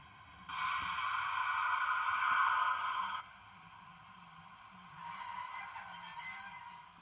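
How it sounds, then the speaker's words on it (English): A 7mm scale model train runs on a home layout heading into a tunnel, giving a soft steady whirring rumble that sustains for a few seconds, drops away, then returns more faintly. "And there's the train about to plunge into the tunnel."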